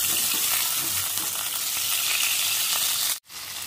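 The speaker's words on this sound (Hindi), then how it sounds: "तो ऑयल को गर्म करेंगे, तो अब इसमें हम ये कबाब रखते जाएंगे" Chana kebabs frying in hot oil, a loud, steady, dense sizzle that runs without pause and then cuts out for a moment near the end.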